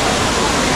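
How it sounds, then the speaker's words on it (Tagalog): Steady broadband rush of cascading fountain water at the Trevi Fountain in Rome, loud and close, with a faint murmur of crowd chatter mixed underneath. "isa sa pinakasikat na fountain sa buong mundo. Ito? Trevi Fountain."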